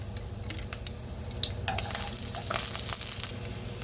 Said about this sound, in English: I'm gonna go ahead throw the garlic in there.